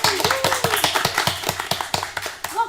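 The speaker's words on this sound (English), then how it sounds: "Everyone give a round of applause for our beloved Penelope and Odysseus." Clapping from a small group at a classroom-style theatrical presentation, rhythmic and fairly close, with distinct individual claps in quick succession rather than a large crowd's roar.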